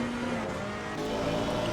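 Race car engine droning steadily past in a GT racing video game at the Barcelona circuit, a continuous mid-level whine with a slight pitch shift as it goes by.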